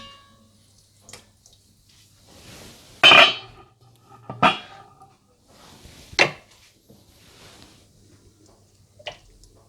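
Kashmiri gushtaba being served into a serving dish gives a few sharp, separate clinks of a utensil against the dish, spaced seconds apart with quiet gaps between.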